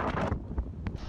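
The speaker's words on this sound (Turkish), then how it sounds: "Güneydoğu yönünden esen şiddetli rüzgarda büyük dalgalar yarımadanın güney sahillerine vurdu." Strong southeasterly storm wind on the Bodrum peninsula buffets the microphone in a steady, loud rush with gusty swells and brief flaps, heard alone without talk.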